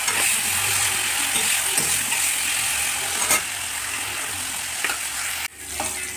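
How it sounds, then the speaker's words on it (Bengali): Cauliflower fries in a pan with salt and turmeric, making a continuous close sizzle with occasional stirring scrapes, and a brief clatter near the end; no speech. "তখন আমি কপিটাকে ভাজা ভাজা করে দিই।"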